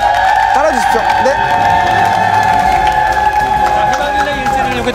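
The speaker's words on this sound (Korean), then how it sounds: "여러분 큰 박수 부탁드립니다." A studio audience claps and cheers loudly at a TV job-fair show as a company logo is attached, with crowd noise and a sustained tone running steadily through.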